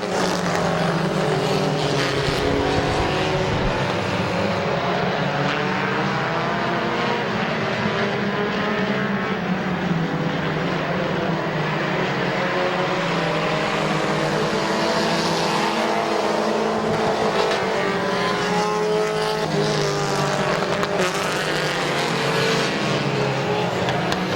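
Race cars roar around Midvale Speedway in a dense, continuous engine drone that swells and fades as the pack passes, loud and unbroken throughout.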